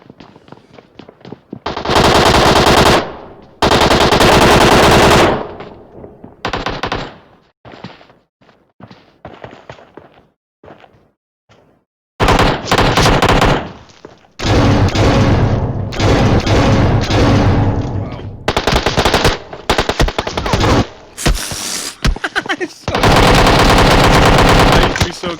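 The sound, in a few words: gunfire from a video game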